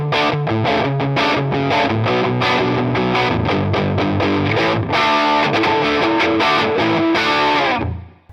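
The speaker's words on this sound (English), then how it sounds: "Distortion on, lose the dynamics, actually sounds a little bit quieter." Heavily overdriven electric guitar through a Fender Hammertone Distortion pedal strums a rhythmic chord progression, crunchy and sustained, before the last chord cuts off and decays.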